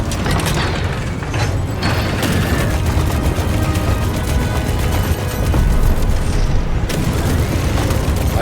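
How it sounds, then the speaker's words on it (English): Spaceship explosions from the Star Citizen/Squadron 42 game trailer roll through as a dense, continuous wall of booming blasts and rumbling debris, loud and close, with sharper bursts near the middle and end. "I love these explosions."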